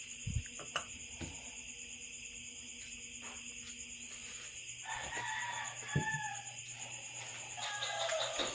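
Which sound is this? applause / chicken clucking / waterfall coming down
chicken clucking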